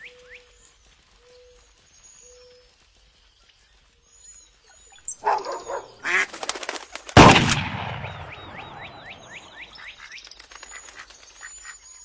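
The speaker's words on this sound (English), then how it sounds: "Got 3 more ducks to kill." Game audio from the Clay Hunt VR duck-hunting game: quiet chirps and quacks at first, then a sharp, loud gunshot with a ringing tail and scattered bird calls afterward.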